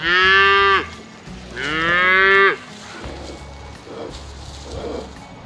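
A Highland cow, a mother cow on a farm, gives two loud, drawn-out moos close by, one after the other, followed by quieter farmyard background noise.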